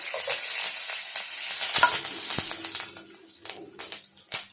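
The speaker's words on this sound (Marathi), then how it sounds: "थोडं हिंग टाकूया" Asafoetida sizzling in hot oil for a drumstick pod curry, a steady bright frying hiss with scattered spoon clicks and stirring scrapes, loud at first and easing off toward the end.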